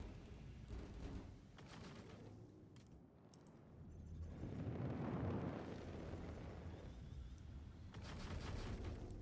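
Booming cannon blasts from the Tachyon Cannon in a space game, fired in stagger mode, rumbling bursts that swell and fade, with a heavy roar mid-way and another burst near the end.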